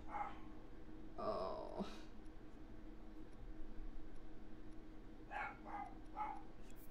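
Dogs agitated by a repairman working on the house bark in scattered bursts, a few sharp yaps early and another cluster near the end, faint and distant, with a brief voice heard.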